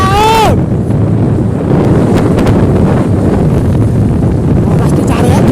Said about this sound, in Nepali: धेरै हावा चलिरहेछ